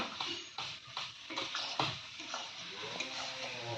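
Meat cooking in a pot, with a ladle or spoon scraping and clinking against the metal in irregular strokes over a soft sizzle, close and fairly quiet.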